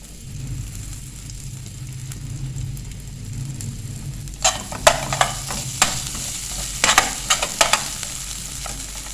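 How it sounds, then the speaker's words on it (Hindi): Ginger sizzles and crackles in hot ghee after a quiet start, with sharp bursts of spitting and popping close by, no talking. "ये मैंने थोड़ा सा अदरक ले लिया और ये है देसी घी। ये 1 टेबलस्पून इसमें डाल देंगे।"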